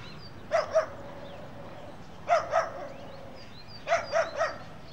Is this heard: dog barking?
yes